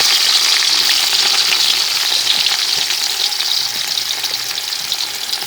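Big onions are tipped into hot oil for a village-style idiyappam kothu, giving a loud, dense, continuous sizzle up close that eases slightly toward the end, with faint stirring underneath and no talking.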